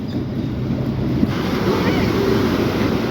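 Sea waves crash on the shore in a constant roar, with heavy wind buffeting the microphone close by.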